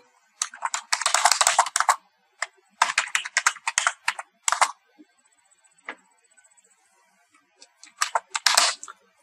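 Typing on a computer keyboard while writing HTML code: close, crisp bursts of rapid key clicks separated by short pauses, with a few isolated taps, heard alone without talk.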